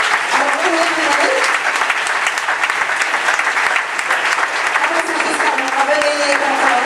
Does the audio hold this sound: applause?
yes